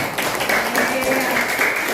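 Primary school classmates clapping for a student who has read a text aloud, a lively round of applause filling the classroom while a teacher's voice speaks over it.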